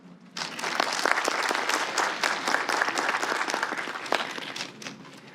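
An audience at a literary competition reception breaks into loud, dense applause, many hands clapping close and continuously for several seconds before starting to thin out near the end.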